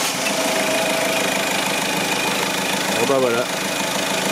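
A Citroën Xsara Picasso diesel engine idles steadily after its fuel circuit is primed, a continuous close mechanical drone with a faint knocking rhythm, while someone speaks briefly near the end.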